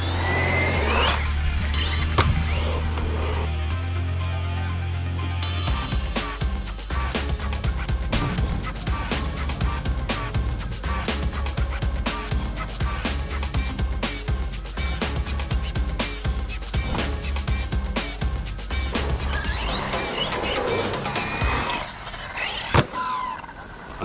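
Tekno RC car driving outdoors, a loud continuous buzzing electric motor whir with rapid surges, bumps and rattles throughout, stronger at the start and a sharp knock near the end.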